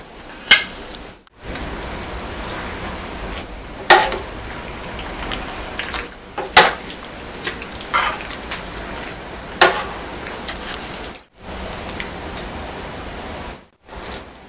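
Chicken, carrot and potato boil in a pot, a steady bubbling hiss broken by occasional louder pops and clunks, close and moderate, with brief gaps of near silence.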